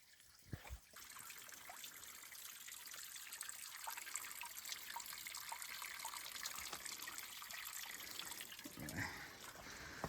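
A small stream of water falls onto a rocky trail on a steep north-face descent near Kinsman Notch, New Hampshire, making a steady, close splashing trickle throughout with no talking.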